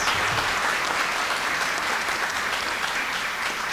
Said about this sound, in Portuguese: a sua esposa Marlene Silva Alvarenga, a quem eu peço um aplauso dos presentes.